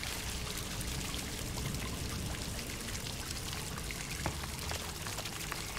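Steady pouring water rushes continuously at an even level for several seconds in a hidden-object adventure game, with no voices.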